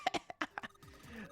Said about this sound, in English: Damn, she's coughing so hard she can't even talk.